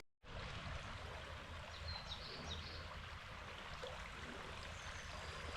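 A river runs just outside a youth hostel along the Cumbria Way in the Lake District, a steady broadband rush of flowing water at low, even loudness from start to finish, with no voices.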